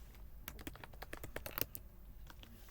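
Quiet, close keystrokes on a computer keyboard tap out in quick irregular bursts, with a brief pause before a few final clicks.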